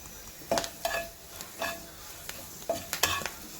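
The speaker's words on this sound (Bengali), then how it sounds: "একটু কারি পাতা দিয়ে দিলাম ফোড়নে" Curry leaves sizzling as they hit hot oil for a tempering, with sharp crackling bursts and spoon clinks against the pan, several close, loud spits amid a quieter sizzle, and no one talking.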